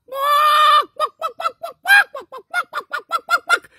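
A human voice imitates a hen: one long drawn-out cackle followed by a rapid series of short, clipped clucks, loud and close with no other sound.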